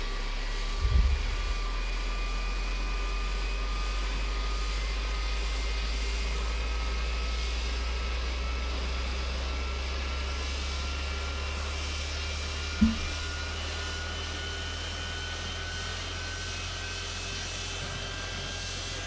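Boeing 727 JT8D jet engines running in Microsoft Flight Simulator 2024, a steady low roar with whining tones that slowly climb, plus a couple of brief thumps, no talking.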